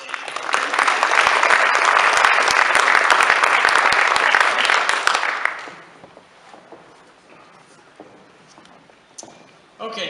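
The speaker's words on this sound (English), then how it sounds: "Join me in our applause as this recipient leaves the stage" Audience applause at an Arkansas City chapter banquet, a loud dense crowd clapping for about five seconds as a recipient leaves the stage, then fading to quiet room murmur.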